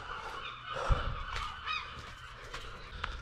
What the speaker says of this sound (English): Hungry seagulls